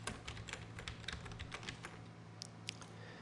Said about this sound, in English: and I'm going to type After Effects